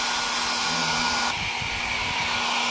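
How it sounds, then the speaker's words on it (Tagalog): Hot air blower drying a wet circuit board and photo sensor from an Astron automatic washing machine with error E8, a loud continuous close-up rushing whoosh with a steady hum throughout. "Yan yung hot blower natin."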